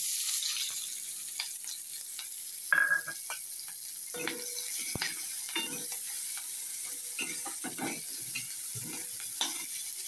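Onion and green chilli fry in a hot pan with a steady sizzle, broken by scraping and clinking stirring strokes every second or two, close and fairly loud, with no voices.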